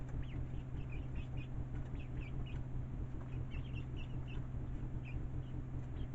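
Young backyard chickens cluck and peep in repeated short calls over a steady low hum, close but faint.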